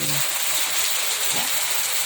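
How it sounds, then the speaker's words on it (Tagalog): Heavy afternoon rain falling steadily outdoors, a loud continuous dense wash with no breaks. "It's raining."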